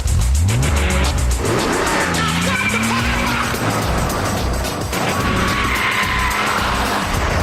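A Lotus Carlton, built when General Motors owned Vauxhall and Lotus, lapping a track at speed: a loud, continuous engine roar with rising revs through the gears and tyre squeal in the corners, with no talking.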